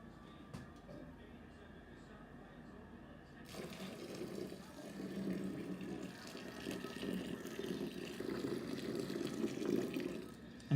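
Warm water pouring into cool grains while brewing an American stout, a steady gushing flow that starts a few seconds in and grows fuller and louder, continuous and close.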